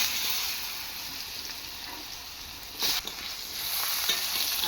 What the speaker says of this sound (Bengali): তারপর এখন আমি আলুগুলা ভাজে নিব।